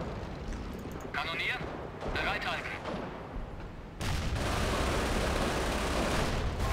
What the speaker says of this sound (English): the rapid fire Panzer IV is insane. It's like one shot every second and a half